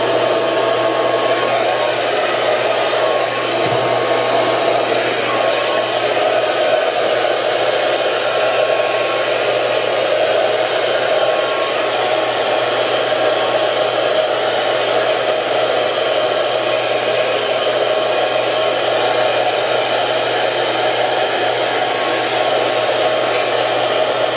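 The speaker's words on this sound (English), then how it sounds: "now my blow dryer is going to be really loud" A hair dryer blows steadily and loudly for the whole stretch, a constant close whooshing hum with no breaks.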